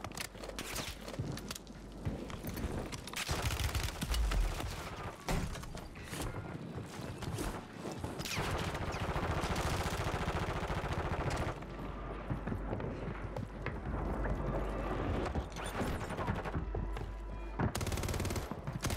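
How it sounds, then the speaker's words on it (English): Rapid automatic gunfire and layered shooting from Call of Duty Warzone on Rebirth Island, loud and sustained across the clip with bursts, mechanical clicks and game effects, no speech. "who's shooting at me?"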